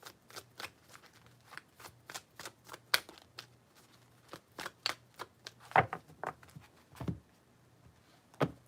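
Tarot cards being shuffled by hand, with a string of quick, sharp riffling snaps in irregular bursts, close and fairly quiet over a faint low hum.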